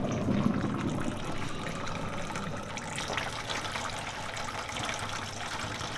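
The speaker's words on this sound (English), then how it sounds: "I decided to put boiling water in" Boiling water pours steadily into a candle container, a continuous rushing gush with a slight splashy texture, fairly close and without talk.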